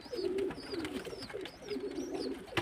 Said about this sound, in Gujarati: આપણે છતમાંથી અને જો કબૂતરાને પૂરી દઈએ